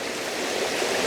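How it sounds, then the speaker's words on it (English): River water runs steadily past rooty oak trees, a broad continuous rush heard close and fairly loud with no other sounds. "We've got the river running through"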